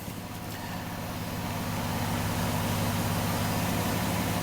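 A 2010 Ford Escape engine idles while warming up after a water pump and thermostat replacement, a steady low rumble that swells slightly at the start and then holds even and close.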